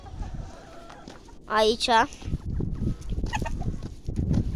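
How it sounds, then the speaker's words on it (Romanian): A large rooster gives a couple of loud, strained clucking calls in the middle, with someone talking before and after. "Avem aici un cocoș foarte mare."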